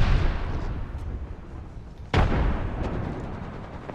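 An arc star grenade in Apex Legends detonates with a single sharp, loud burst about halfway through, standing out against a steady rumble of game background noise.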